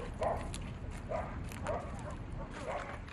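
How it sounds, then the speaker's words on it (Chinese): Dogs bark in a short series of four spaced yaps near a river as a kayak is launched, carried over steady background noise. "皮划艇才刚刚下河，就引来了一阵狗叫，这让大家始料未及。"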